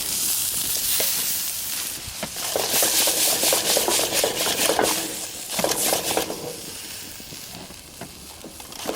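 Turkey sizzles in a camp cooking pot for a one-pot Thanksgiving meal, with a continuous, fairly close frying crackle broken by scraping stirring strokes. No one speaks.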